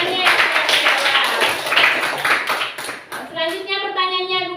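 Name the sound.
children applauding classmates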